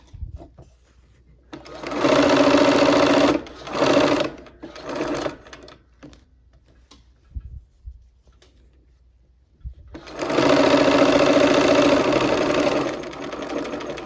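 A sewing machine stitches a quilt block in loud, close runs of rapid whirring: a long burst, several short stop-start spurts with quiet gaps, then another long sustained run.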